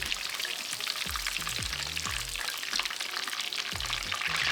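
Breaded chicken pieces for chicken parm fry in hot oil with a steady bright sizzle and crackle, close and moderately loud, with a few low knocks of handling underneath and no talking.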